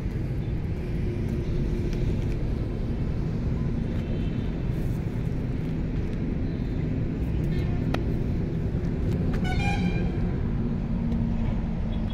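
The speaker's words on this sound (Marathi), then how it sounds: "पूर्ण ट्रॅफिक झालेलं आहे." Road traffic backed up near a bridge, heard as a steady dense roar of engines from a short distance with a brief horn toot around the middle and a longer honk near the end.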